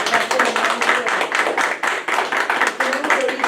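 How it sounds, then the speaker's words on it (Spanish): Audience clapping at a talk on sex education and digital violence, a dense, steady crowd applause running throughout at close, even loudness. "Un aplauso."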